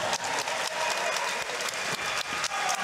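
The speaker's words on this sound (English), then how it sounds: "another round of applause for both warriors in this championship bout" After a ten-round WBC Silver women's boxing championship bout, the arena crowd claps for both fighters, a broad, continuous roar of applause with a few sharper bursts and no talk on top.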